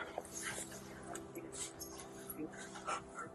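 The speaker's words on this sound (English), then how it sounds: "You're a cute little dog." A small dog whimpers and yips softly in a quiet room, a few faint, high whines scattered over low background hum.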